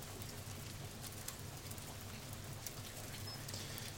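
Steady rain falls outdoors, a faint continuous patter of drops with scattered brighter hits, alone without voices.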